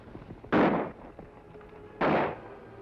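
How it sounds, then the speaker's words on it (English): Two loud, sharp pistol shots ring out about a second and a half apart, each a sudden broadband crack with a short ringing decay over a quiet background. "Pistol shots, Kemo Sabe."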